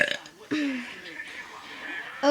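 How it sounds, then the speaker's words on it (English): A girl lets out a drawn-out, croaky burp close to the mic, with quieter voices and other chatter around it. "Here's my burp."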